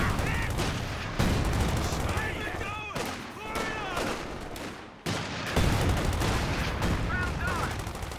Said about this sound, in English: Look at those mortars though, straight to work on that MG